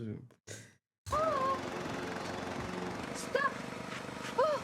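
After a couple of brief breathy vocal sounds, a lawn mower engine starts up and drones steadily, with a few short sighing voices over it.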